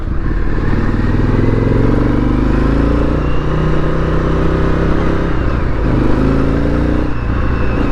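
A loud, deep motorcycle exhaust, an aftermarket S&S Grand National, rumbles up close, idling and rising in a few throttle swells with a throaty, steady burble and no speech.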